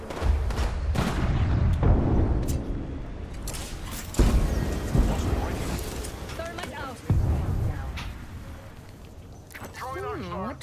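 A grenade goes off in Apex Legends as a series of loud, booming blasts spread across the stretch, each followed by a decaying rumble, with game sound effects and talk mixed in.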